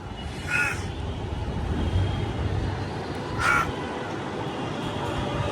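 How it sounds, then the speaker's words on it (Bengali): A large crow caws from a rooftop, two loud, close calls about three seconds apart over a soft steady wind or background hiss. "নিচে এটা তো বিশাল সাইজের কাক দেখেন"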